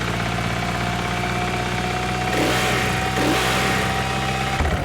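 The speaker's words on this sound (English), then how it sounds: "Now that is the sound of the KTM 450 motorbike" A KTM 450 motorbike engine from the racing game The Crew Motorfest idles loud and steady, its low rumble swelling slightly twice before settling back.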